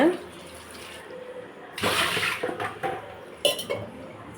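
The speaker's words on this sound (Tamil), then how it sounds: "காய் முழுகிற அளவுக்கு தண்ணி ஊற்றிக்கலாங்க." Water splashes and gushes into a metal pot over cut eggplant and tomato for a South Indian kadayal, in a couple of bursts, with clinks of cookware and a person talking nearby.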